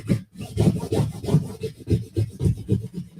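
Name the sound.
scraping vinyl hard onto paper with a scraper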